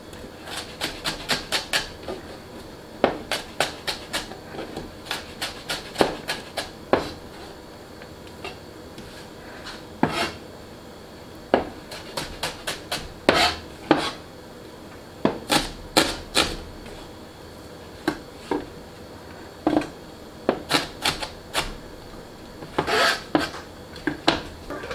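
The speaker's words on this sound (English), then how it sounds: "Now this piece I don't really like, so I'm just going to cut this part off as well." Knife chopping red onion on a cutting board, a quick series of sharp taps in irregular bursts with short pauses between, close and clear with no talking.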